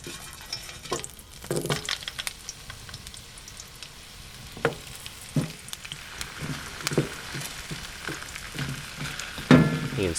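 Potato pieces frying in hot oil in a seasoned cast iron skillet, a steady close crackle and hiss with brief clicks and scrapes of stirring scattered throughout.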